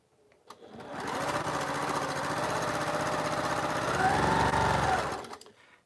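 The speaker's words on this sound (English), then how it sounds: "I'm going to stitch down that seam over there." A sewing machine runs in one continuous burst of several seconds, stitching down a quilt seam with a close, steady mechanical whir that starts and stops cleanly.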